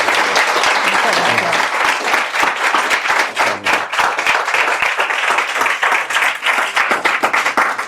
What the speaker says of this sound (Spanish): solamente pediros que la recibáis, por favor, con un aplauso.